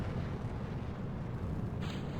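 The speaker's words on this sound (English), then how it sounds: "A little bit of explosion behind me" A rocket explosion in the RP-1 mod of Kerbal Space Program, heard as a steady, dense low rumble that fills the whole moment without letup, a little brighter hiss joining near the end.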